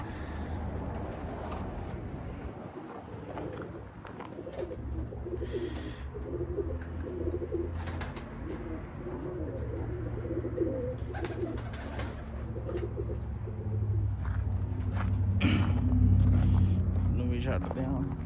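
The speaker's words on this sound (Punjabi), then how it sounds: "ਇਧਰ ਕਬੂਤਰ ਦਾਣੇ ਦੇ ਲੱਗੇ ਹੋਏ ਆ" Pigeons cooing close by as they peck at scattered grain, with someone talking over the birds and some shuffling and street noise around them.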